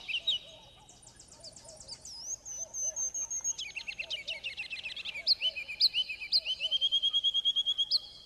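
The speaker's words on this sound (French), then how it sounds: "Oui, c'est un oiseau, un chanteur extraordinaire" A songbird sings a varied, bright song of whistled phrases and rapid trills, ending in a regular series of sharp repeated chirps, clear and fairly close.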